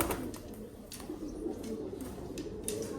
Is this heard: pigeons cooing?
yes